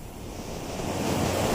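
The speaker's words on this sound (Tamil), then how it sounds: "இந்த அலைகள் எவ்வளோ அழகா ஓடி ஓடி வருது பத்தியா?" Cartoon sea waves roll onto the shore in a steady, broadband wash of surf that swells slightly louder toward the end, with no voices over it.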